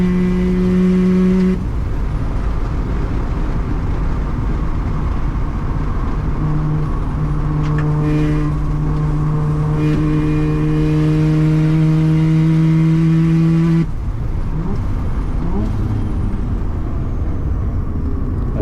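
A 400-horsepower Mazda RX-7 with a 13B rotary engine accelerates hard, its engine note climbing through the revs before a gear change, then pulling again, loud and close with no talk.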